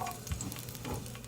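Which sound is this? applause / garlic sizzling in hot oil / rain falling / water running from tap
garlic sizzling in hot oil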